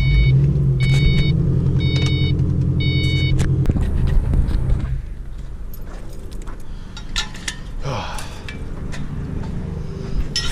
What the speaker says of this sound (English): It's almost like a misfire. It's not quite misfiring, but you can hear it on a cold start.